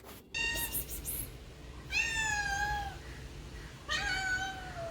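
A female cat meows three times in drawn-out, wavering calls spaced about two seconds apart, close and fairly clear over a low background hum.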